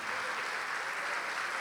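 A church congregation applauds steadily and continuously, a dense wash of clapping that stays even in level throughout, with no clear voices standing out.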